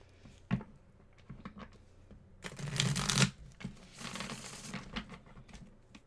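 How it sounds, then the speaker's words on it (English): A tarot card deck being shuffled at close range, with soft riffling bursts and a louder, dense flurry of cards through the middle, with no talking. "we're going to give our tarot deck a quick shuffle"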